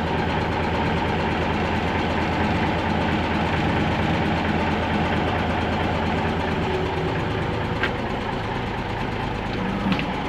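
A five-ton truck engine idling, a loud, even, continuous low rumble with a constant mechanical clatter and no change in pace throughout, with nobody talking.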